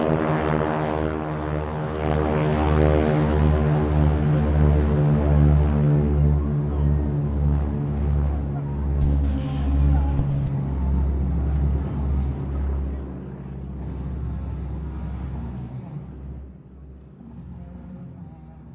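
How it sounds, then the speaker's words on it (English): North American SNJ trainers with round radial engines roll for takeoff at an air show, a loud throbbing, pulsing drone that swells and then eases off as the aircraft move away. "you'll hear a distinctive sound of some round engines on the takeoff roll"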